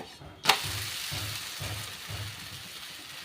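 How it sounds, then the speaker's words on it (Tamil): Ragi dosa frying in oil on a pan, a soft continuous sizzle after a sharp clink, with faint low pulsing underneath. "மாற்றி போட்டு ஒரு நிமிஷம் பொரிய விடலாம்"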